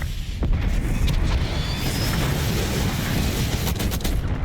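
Hellstorm missile strike explosions in the video game Black Ops 6, a loud sustained roar of blasts and rumbling booms with crackling debris, continuous and heavy throughout.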